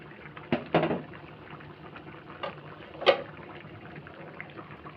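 Gourd curry in a covered pot coming up to a boil, with soft bubbling and a few louder clatters as the lid is lifted, fairly quiet overall.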